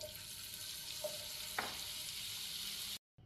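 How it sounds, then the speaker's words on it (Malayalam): Olive oil and butter sizzle in a heated pan, a steady bright hiss running evenly for about three seconds with one faint clink, then cutting off to near silence. "ഒരു പാൻ ചൂടാക്കിയിട്ട് അതിലേക്ക് ഇച്ചിരി 1 ടേബിൾ സ്പൂൺ ഒലിവ് ഓയിലും 1 ടേബിൾ സ്പൂൺ ബട്ടറും കൂടെ ഇടാം"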